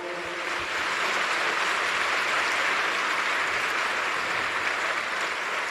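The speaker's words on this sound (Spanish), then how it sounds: "Dele un aplauso fuerte al Señor, por favor." A church congregation at Centro de Vida Lomas applauds during a sermon, making a thick, continuous roar of clapping that swells and holds steady, with no voices clearly heard.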